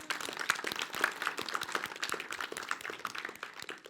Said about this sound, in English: I would like to applaud everyone here for showing up